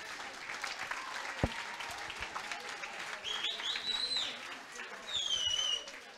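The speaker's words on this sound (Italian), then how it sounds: "gli facciamo un altro applauso" Audience applause at an Italian event honouring a cyclist, a steady patter of clapping from a crowd, moderately distant, with a few sharp claps and brief cheers and whistles toward the end.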